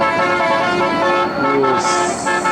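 A bus in a convoy on a road in Tebo, Sumatra, passes close by with a steady engine roar and a sustained multi-tone horn blast that rises in pitch toward the end.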